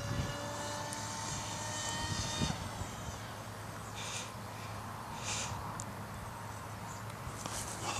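Electric motor and propeller on an RC model airplane in flight, a faint distant whine holding steady with thin high tones throughout.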